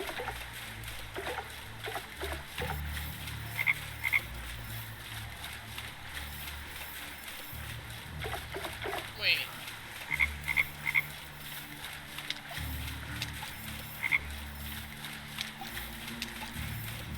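A frog croaks in a lily-pad jumping minigame from a Dark Parables video game, with short repeated croaks and soft water splashes over a low ambient drone.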